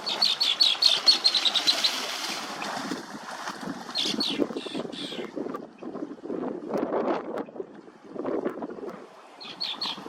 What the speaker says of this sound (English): The blackbird is still quite agitated.